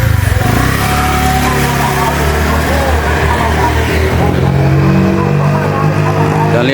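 A Honda Vario 150 scooter with a sputtering, hesitating fault revs on test: a steady, loud engine drone with rising and falling pitch that runs the whole time, close by.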